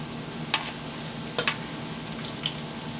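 Plantain frying in a pan of oil gives a steady, soft sizzle with a few sharp clicks and taps of a utensil, no voices.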